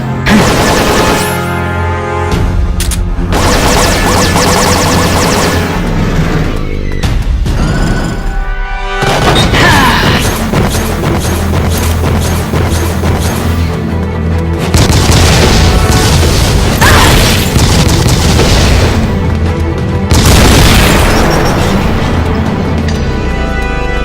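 Metal Gear RAXA prototype gun firing in the Metal Gear game, heavy booming shots and explosive bursts repeating over a steady loud backdrop of game music, dense and close for the whole stretch.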